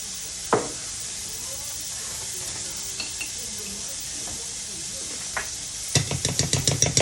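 Steady bubbling hiss of sweet chili sauce boiling in a pan, with a few utensil taps and a quick run of stirring scrapes at the end.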